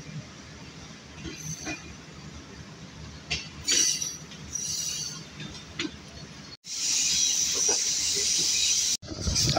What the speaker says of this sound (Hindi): अब हमारी गाड़ी दीना रेलवे स्टेशन से दोबारा रवाना हो चुकी है।